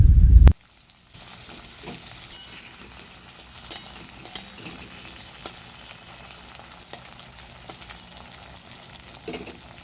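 Chopped medium tomato dropped into onions frying in a pan, a brief loud thump at the start, then a steady moderate sizzle with small crackles and pops.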